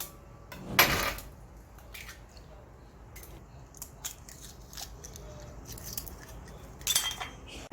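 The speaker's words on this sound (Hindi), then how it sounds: "अच्छी तरह मिक्स करेंगे इन सब चीजों को।" Four eggs being mixed with half a spoon of ground black pepper and half a spoon of salt in a bowl for a Korean-style breakfast sandwich, heard as a few sharp clinks and wet stirring scrapes, close and fairly quiet.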